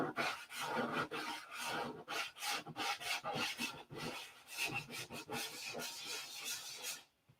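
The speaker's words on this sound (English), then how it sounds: "I better keep up sanding." Steady hand sanding on a P-47 model airplane fuselage, close and continuous with rhythmic rasping strokes that speed up in places, then stopping abruptly at the end.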